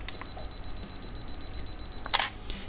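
A Canon EOS 60D runs its two-second self-timer, with a steady high electronic beep pattern ending in a sharp shutter click near the end; close and clear, no talk.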